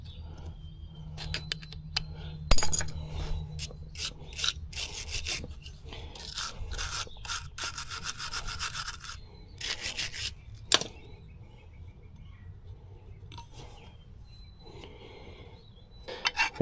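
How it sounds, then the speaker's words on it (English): A dull hand file scrapes rust off a raised spot on a 2016 Kia Sorento rear disc brake part in repeated, rasping back-and-forth strokes, close by and fairly quiet, with brief pauses between bursts. "I'm going to file that down"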